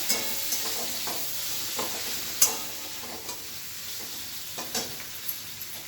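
Whole large onion and slit green chilies frying together in a pan, a steady sizzle with scattered stirring clicks and spatula taps, fairly close and alone with no voices.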